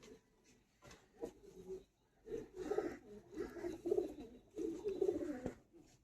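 Madrasi pigeons coo in repeated low, throaty bursts, fairly close and moderately loud, with short pauses between phrases and faint background noise.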